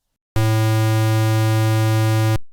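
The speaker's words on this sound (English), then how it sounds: "This one has a lot of harmonics and it has a kind of strong sound." A steady synthesized square wave tone holds one low pitch for about two seconds, buzzy and harmonically rich, then cuts off abruptly.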